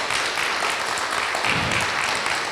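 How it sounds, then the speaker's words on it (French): A crowd at a political conference claps warmly and continuously, a dense even wash of applause with no voices over it. "je vous demande d'applaudir chaleureusement Vincent Berthelier"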